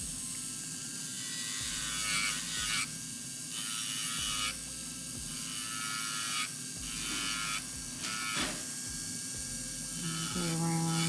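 A fine nail drill bit files an acrylic nail overlay, a faint, steady electric whir broken into repeated short strokes as the bit passes over the nail.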